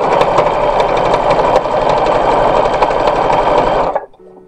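A sewing machine runs steadily at high speed while stitching a linen skirt onto its waistband, the 1916-style dress piece fed through in one continuous, loud whir that stops abruptly near the end.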